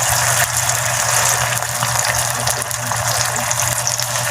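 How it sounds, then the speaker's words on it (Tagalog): Water gushes steadily from a kitchen tap to rinse out an emptied sardine can, a continuous loud splashing rush with a low hum underneath and no voices. "hinuhugasan pang pinaglagyan ng sardinas"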